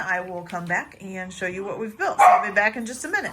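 A dog barks and yips near the microphone while a person talks over it, with short sharp barks scattered through the speech.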